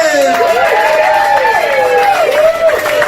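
A comedy club crowd in Kansas City cheers, whoops and applauds to welcome stand-up comedian Sean Brennan. The noise is loud and continuous, with voices rising and falling in excited shouts over steady clapping.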